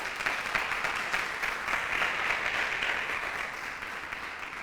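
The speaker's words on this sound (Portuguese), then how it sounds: "Você pode dar um aplauso ao Senhor aí?" A church congregation applauds together, a steady broad wash of many hands clapping at even loudness throughout, with no talk over it.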